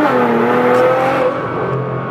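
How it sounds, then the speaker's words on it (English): A Nissan GTR sports car on Vossen wheels makes a rolling launch, its engine a loud, close, sustained roar with rising harmonic pitch that eases off slightly near the end, no voices over it. "Let's do another one of those rolling launches."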